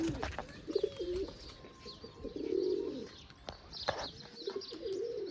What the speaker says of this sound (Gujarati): જોઈ લ્યો આવ્યા કબૂતર